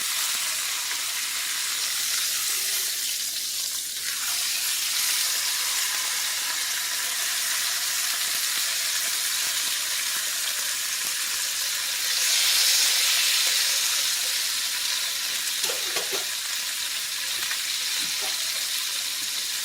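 Chuck roast browning in a pan gives a steady, dense sizzle and hiss that holds close and loud throughout, swelling briefly near the middle, with a few faint clinks and no voices.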